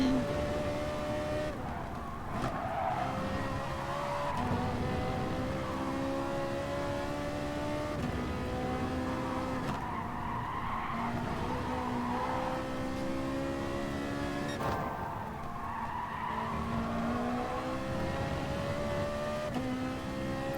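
A Ferrari race car engine in GT Sport holds a steady high whine, its pitch rising and dropping through repeated gear changes over about twenty seconds, loud and continuous.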